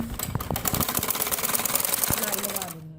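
Sewing machine stitching along the folded reverse side of a salwar hem, a steady rapid mechanical chatter running nearly three seconds before stopping abruptly.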